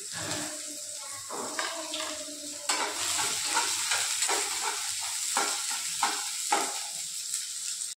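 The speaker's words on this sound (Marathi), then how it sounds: "आता याच्यामध्ये मी कांदा टाकते। कांदा छान परतून घेऊ आपण आधी।" Onions sizzling and frying in a pan while being stirred, with repeated scraping strokes over a steady hiss, close and fairly loud, with no talking.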